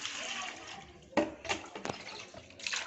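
Water poured and splashing over fish being cleaned, a close wet rushing with a few sharper splashes and clatters as it is handled.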